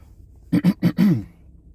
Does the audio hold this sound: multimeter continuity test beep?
no